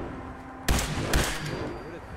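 Gunfire in the video game Fallout 4: two sharp, loud shots about half a second apart, each with a short booming tail, set over a steady low game ambience.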